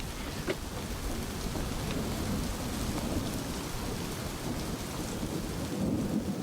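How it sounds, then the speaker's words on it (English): Steady heavy rain with rolling thunder over a winter English seaside town, a dense continuous wash of downpour with low rumbles, loud and close, no voices. "All that rain."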